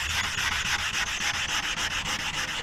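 Continuous hand wet-sanding of car primer on a 1983 body panel along a body line after bodywork, a close, steady rasping rub with rhythmic back-and-forth strokes and no pauses.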